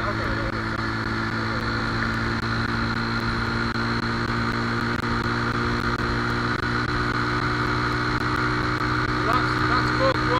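A Lexmoto Arrow 125 motorcycle engine held at full throttle while riding, a steady droning hum with wind noise that holds constant and slowly climbs, with a rider talking over it.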